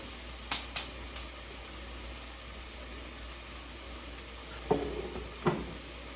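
Lamb samosa stew cooking down in a pan, a low steady sizzle and simmer running throughout with a few brief clatters of a spoon or lid, fairly quiet and with no talk.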